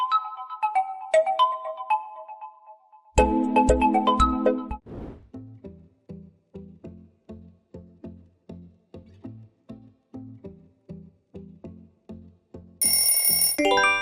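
A Realme smartphone ringtone plays as a rhythmic, repeating pattern of clear electronic notes, steady and prominent, after a brief chiming intro and before a loud burst at the close.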